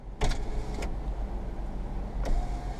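Electric power windows on a Hyundai Atos whirring inside the car, with brief mechanical bursts and a short motor whine near the end, close and fairly quiet against a steady cabin hum.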